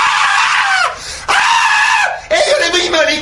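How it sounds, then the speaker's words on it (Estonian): A person screams loudly and shrilly in three long bursts separated by brief gaps, close and piercing, in an indoor theatre-rehearsal setting. "Mis te karjute seal?"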